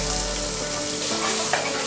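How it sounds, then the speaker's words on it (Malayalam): Chopped onions, shallots, curry leaves and green chilies sizzle steadily in a hot pan, a dense, close frying hiss for a Kerala prawn theeyal, with a faint stirring scrape partway through. "ഇതെല്ലാം കൂടെ ചേർത്ത് ഒന്ന് നല്ലവണ്ണം വഴറ്റിയെടുക്കുക."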